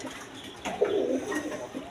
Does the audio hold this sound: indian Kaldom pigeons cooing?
yes